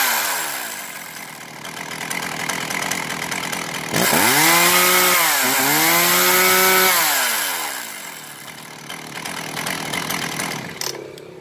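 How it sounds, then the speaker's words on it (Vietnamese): A Ryobi 3005 gasoline chainsaw idles roughly, then revs up loudly twice in quick succession before settling back to a rattling idle, close by. "đây là tiếng máy của em Ryobi 3005."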